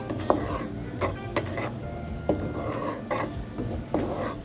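Tomatoes being stir-fried for a low-sodium spaghetti sauce in a single pan, with a spatula scraping and clacking in a steady, repeated rhythm over a soft sizzle, close up and without talk.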